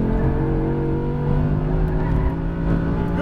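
Audi R8 V10 at full throttle on a race track, its engine roaring steadily and loudly with a strong, sustained harmonic drone close by, no voices.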